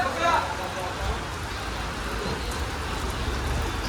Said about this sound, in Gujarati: ચાલુ થઈ ગયો છે વરસાદ ખતરનાક